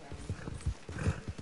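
Horse hooves in Red Dead Redemption 2, a quick run of clip-clop hoofbeats thudding in an even rhythm, faint and close, with no talking over them.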